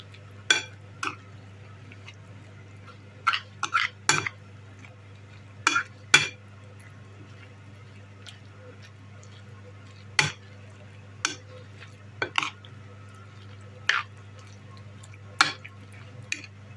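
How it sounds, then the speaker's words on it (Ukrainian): Intermittent scraping and clinking of a spoon stirring potato pancake batter with mushrooms in a bowl, about a dozen sharp taps spread irregularly over a low steady background hum. "гарно все перемішую до однорідної маси"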